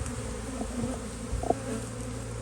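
Open-air honeybee swarm hanging below a trap, a steady dense buzz of many bees close by with a few louder individual passes, no talking.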